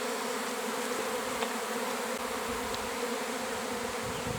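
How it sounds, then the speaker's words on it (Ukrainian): A honey bee swarm gathers into and around a bucket at an apiary, its dense, constant hum loud and close, with faint ticks of individual bees flying past. "Частина роя збирається ось тут у відро"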